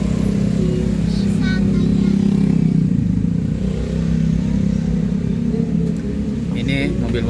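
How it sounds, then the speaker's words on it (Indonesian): A convoy of cars on the Camba mountain road at night, with heavy traffic ahead. A continuous dense engine roar fills the clip, with a few brief revving bursts and rattles, while someone talks throughout. "Ini ada lagi mobil, rombongan mobil, kayaknya agak macet di depan."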